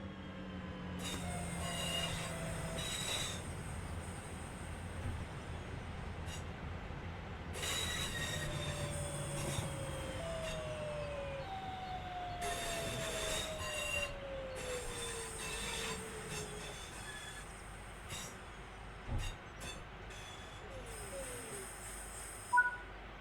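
A train in Train Sim World 6 on the Riviera Line brakes to a stop, with long squealing wheel and brake tones sliding downward over a low rumbling rolling base and intermittent hissing bursts, steady and moderately loud with no talk.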